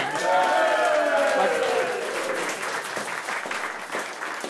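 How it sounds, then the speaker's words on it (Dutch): Carnival show audience gives applause for two performers, a steady wash of clapping beginning under a sliding voice or sung tone that fades, leaving sharper hand claps near the end. "Applaus voor die twee."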